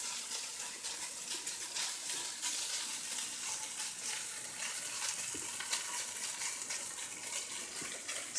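Steady, soft sizzling and crackling of tofu searing in a frying pan on a stovetop, continuous and fairly quiet with no talking.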